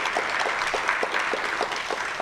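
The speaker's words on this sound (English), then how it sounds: "A big round of applause for yourselves and us and everybody watching" Brief round of applause at a live celebration of an astronomy podcast's 500th episode, a steady, moderately loud patter of clapping from a small crowd with no voices over it.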